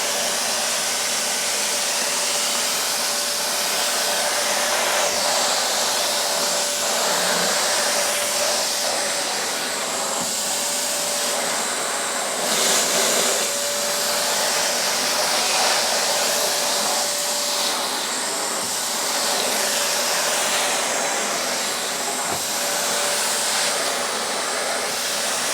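A Truvox VTVE-C compact tub vacuum cleaner runs on a lino floor with a steady, loud broadband whoosh and a faint motor whine, held evenly throughout with only slight surges as the tool moves.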